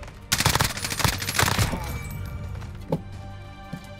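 Rapid bursts of automatic gunfire in the Warzone battle royale shooter, a dense volley early on, then scattered single shots trailing off, with faint voices underneath.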